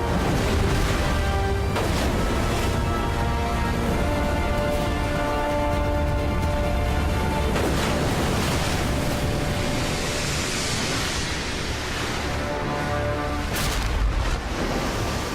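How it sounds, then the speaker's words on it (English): Loud, continuous roar of heavy surf pounding rocks on an island shore, crashing and churning, with surges of breaking waves and no voices. "Pounding surf batters the iguana towards the rocks."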